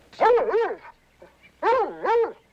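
Whining, yelping dog sounds from a film set in a swamp, two rising-and-falling whimpering bursts with a pause between, fairly close and clear with no talk over them.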